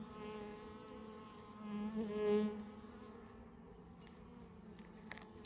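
Worker honey bees buzz steadily around a queen being handled for marking, a close, continuous droning hum that swells briefly midway and then settles back.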